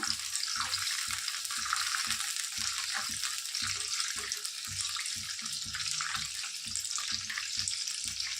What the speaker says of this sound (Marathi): कढीपत्ता, पुदिन्याची पानं घातलेत मी, कसुरी मेथी। हलवून घेऊया एकदा।